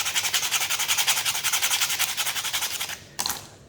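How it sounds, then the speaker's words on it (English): Rough sandpaper rubs a wooden photo frame in quick, rhythmic back-and-forth strokes, close and steady, pausing briefly near the end before one more stroke. "Use the rough sandpaper"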